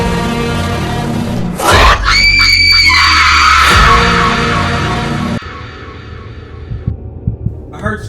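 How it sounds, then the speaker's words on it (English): Screaming from an analog horror piece cuts in as harsh, piercing bursts over a droning hum, loud and distorted, then falls away to a low rumble with scattered thumps. "I heard screaming."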